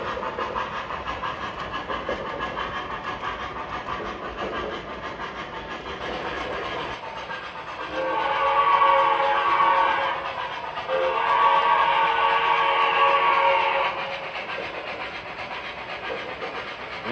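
A custom Hudson model train runs with a steady chuffing steam rumble, then sounds two long, bright chime whistle blasts, close and fairly loud over the continuous rolling sound.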